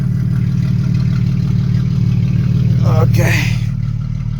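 A car engine runs steadily after being push-started, a continuous low droning hum throughout, with a brief spoken word and some rustling near the end.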